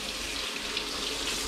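Water running from a kitchen tap in Rabat, Morocco, a steady close hissing stream that stays constant throughout, with no talk.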